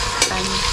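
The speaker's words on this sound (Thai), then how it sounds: "นี่ครับหมูกำลังสุก" Pork sizzles and crackles as it cooks, loud and close, in a brief continuous burst.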